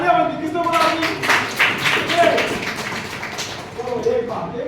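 Audience members clap at a practical innovation training session, with scattered claps and taps mixed under a voice that keeps talking over them.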